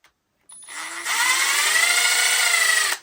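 A power tool spins fasteners out of brass steering knuckles on an Axial UTB18 mini Capra RC truck: a short click, then a high whine that climbs into a steady, close, loud buzzing run for about two and a half seconds.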